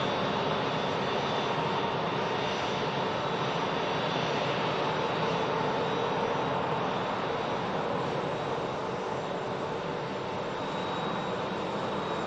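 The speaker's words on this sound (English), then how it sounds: "9-year-old prop aircraft next to touchdown" An ATR 72-600 turboprop landing at Manchester Airport gives a steady, loud broadband roar that holds without a break throughout, with no voices.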